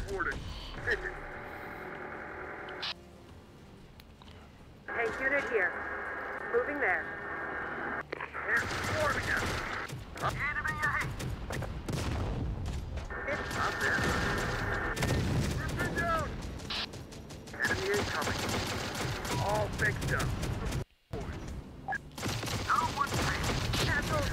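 Big guns firing in the strategy game Terminator Dark Fate Defiance, loud repeated booms and bursts of gunfire over rumbling vehicle noise, with someone talking throughout.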